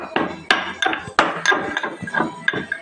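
Black pepper is pounded into powder with a pestle, a quick run of sharp, close thuds and knocks in an uneven rhythm, with no voices.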